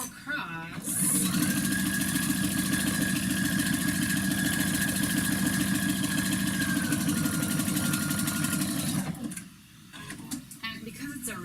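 A sewing machine runs a small zigzag stitch across thin knit fabric, a steady close mechanical whir for about eight seconds before stopping, followed by faint handling sounds.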